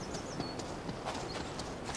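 Donkey hooves clip-clop in quick, steady rhythm within a VR video game, close and fairly loud over a dense ambient background, with no talk.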